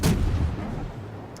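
A World of Warships naval battle: one loud, booming artillery salvo from warship guns fires at the start, then a deep rumbling tail fades away, with a faint high blip near the end.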